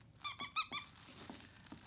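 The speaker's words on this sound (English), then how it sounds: "This one happens to squeak as well." A fabric baby book toy squeaks four times in a quick run, followed by a few fainter squeaks, close and alone.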